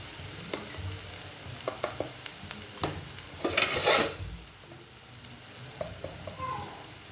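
Tomatoes and chili, coriander and garam masala powders frying in a pan for egg curry, a soft sizzle under repeated scraping spoon strokes and clinks, with one louder burst midway, close and without talk.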